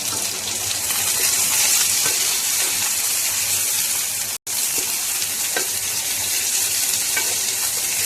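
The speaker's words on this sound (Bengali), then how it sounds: "উচ্ছেগুলো প্রথমে খুব ভালোভাবে ভেজে নেবো" Bitter gourd pieces fry in a pan with a steady, loud, continuous sizzle, close and alone apart from one very brief dropout midway.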